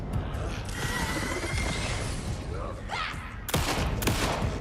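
Gunfire in the video game Alan Wake 2, Lake House DLC: dense rapid shots and mechanical clatter in a steady stream, with a louder burst near the end.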